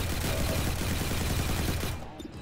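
Sustained suppression gunfire from a squad in the video game XCOM 2, a dense, loud stream of rapid shots with explosive crackle that carries on without a break and then drops away near the end.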